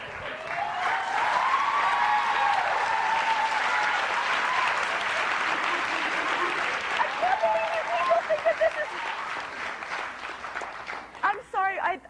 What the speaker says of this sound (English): I really don't think that you should applaud me for doing something like that